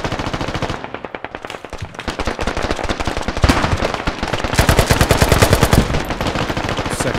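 Rapid automatic gunfire from the player's weapon in the tactical shooter game Squad, loud close bursts of shots in quick rhythm with a short pause, then heavier sustained firing.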